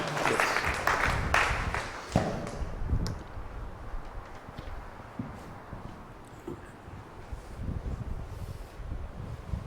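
A congregation at a Malayalam prayer retreat in Pala claps together in thanks, a dense burst of hand-clapping that is loudest at the start and then thins into softer, scattered applause.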